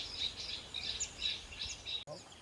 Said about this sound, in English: There's a small bird here.